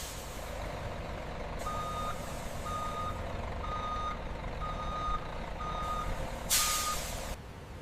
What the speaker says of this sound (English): Truck 1 verified and entering the premises.